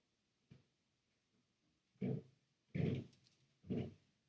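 A puppy lets out short low growls, one faint and then three louder bursts in quick succession, close by in a quiet room.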